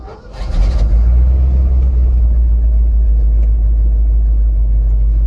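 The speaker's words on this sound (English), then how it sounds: "So let's drive it around the yard here real quick and see how she does" A 1970 Ford 600 hay retriever truck's engine rumbles loud and close after a brief start, holding a steady deep drone throughout with no talk.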